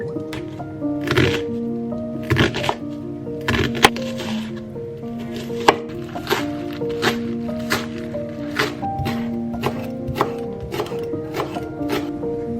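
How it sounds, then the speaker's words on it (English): Boiled potatoes being smashed, with repeated soft thuds and squishy crunches at a steady pace, close up, over a faint background hum. "I have already boiled the potatoes and I just need to smash them"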